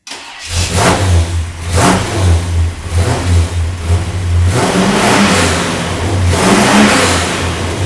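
A car engine cranks and catches, then revs hard several times in loud surges between a steady idle, close by and with no talk over it.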